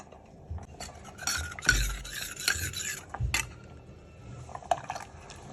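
A spoon stirs custard powder mixture into boiling milk in a pot, producing irregular scraping and swishing bursts close by, some louder strokes, then quieter stretches.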